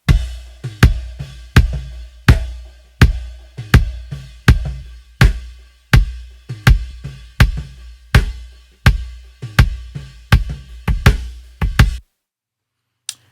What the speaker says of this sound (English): So the two kick drum mics together now sound like this.